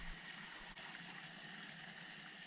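Hot water running steadily in an off-grid cabin shower, a constant close hiss of spray with a faint low pump-like hum underneath, no voices.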